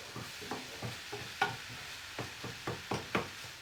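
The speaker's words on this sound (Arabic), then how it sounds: "صافي غادي نحرك كلشي مزيان" Food is stirred in a pan while making a filling, a series of rhythmic scraping strokes about every half second over a low sizzle, close and moderately quiet, with no voices.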